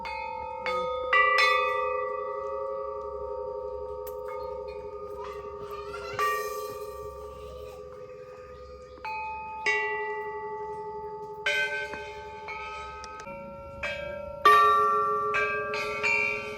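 A temple bell is struck repeatedly at a temple, each clear metallic strike ringing out with long sustained overtones that overlap and decay between hits.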